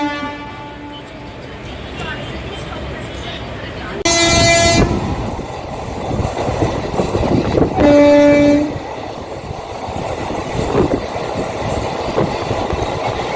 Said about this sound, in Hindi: Chennai central Mumbai CSMT superfast express यहाँ पहुँच